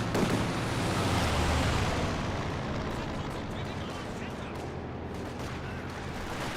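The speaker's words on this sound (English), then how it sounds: "Airstrike has been summoned." An airstrike in the Company of Heroes 2 strategy game lands as a dense roar of explosions and crackling blasts, loud and sustained throughout, with faint talk beneath.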